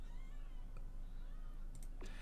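A cat in The Sims 4 meows once, a short, faint call near the end over quiet background sound.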